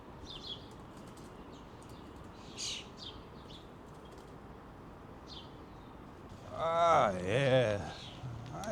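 Birds outdoors giving short, scattered chirps and calls against a quiet background, with a loud nearby burst of wing-flapping and squawking toward the end.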